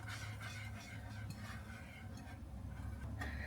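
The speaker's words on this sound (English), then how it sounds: "now we are going to mix the cream cheese in" Cream cheese is being stirred into a macaroni and cheese sauce in a pot, a faint, continuous soft scraping and swishing over a low background hum, with no speech.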